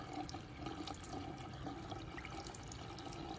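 Tap water runs steadily from a faucet, a continuous close hiss and splash with no pauses and no talk over it.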